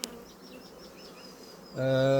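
Honeybees in a hive full of bees, brood and stores, a soft steady buzz with passing whines, then a louder, sharper droning buzz rising close by near the end.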